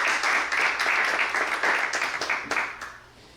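A church congregation applauding during an Easter Sunday Spanish-language service in Lake Forest, a dense, lively burst of clapping that holds steady for about three seconds before tapering off, with no voices over it.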